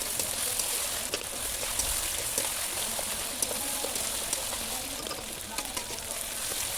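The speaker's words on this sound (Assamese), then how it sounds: "এনেদৰে ভাজি" Duck meat fries in a pan with red chili powder and cumin, giving a steady, dense, hissing sizzle with small crackles and pops. It stays close and continuous, with no talking.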